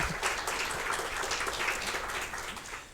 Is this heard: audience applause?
yes